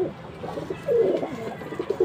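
A white-eyed, black-beaked female pigeon coos in short soft phrases, several low throaty calls repeating across the moment, close by against a quiet background.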